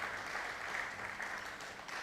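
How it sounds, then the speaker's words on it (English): Audience applause at a university medical alumni commissioning ceremony in Ibadan, a steady, dense clapping from a crowd lasting throughout, fairly even in loudness with no talk over it. "Please applaud them."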